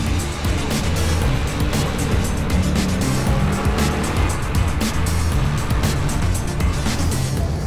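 A Nissan Skyline GT-R sports car with over 600 horsepower driving at the Nürburgring: a loud, continuous roar of engine and rushing road and wind noise, steady throughout with no pauses.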